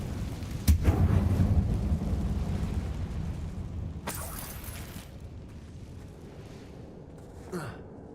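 A Confringo blasting spell goes off in Hogwarts Legacy: a sharp explosive crack followed by a deep rumbling roar that fades over several seconds, then a second burst and a softer whoosh near the end, loud and close with no talking.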